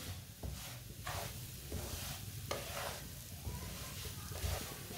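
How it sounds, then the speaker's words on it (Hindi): Semolina browning in a pan while a spoon stirs it continuously, giving a steady sizzle with scraping strokes recurring about every second, close and alone with no talk. "सूजी को ऐसे चम्मच चलाते हुए ब्राउन करना, इसे चम्मच छोड़ना नहीं है"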